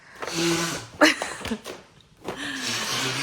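A man blowing his nose in a home kitchen: two long, breathy honking blasts separated by a short pause with a brief voice, heard close and moderately loud.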